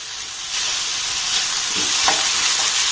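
Grated carrot, capsicum and tomato being stir-fried in a pan, a steady close sizzle that swells after a moment, with a few scraping strokes of the spoon and no speech.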